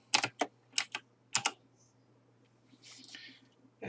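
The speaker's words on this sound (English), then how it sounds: "And I'm going to type my name." Computer keyboard keys being typed in short clustered bursts while a name is entered into text-editing software for Arial Black lettering, close and fairly quiet, with a faint steady hum beneath and brief soft noises between keystrokes.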